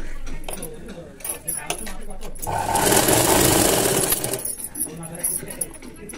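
A sewing machine stitches thread piping along the folded edge of a square-neck cloth piece in one steady two-second run of rapid stitching, close by, with a voice talking softly before and after.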